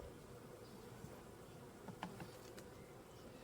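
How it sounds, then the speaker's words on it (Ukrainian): Honeybees of a long-established colony buzzing around their hive, a soft steady hum with faint scattered wingbeats and a few brief louder passes close by. "бджоли, які в мене вже живуть довго, багато вже років"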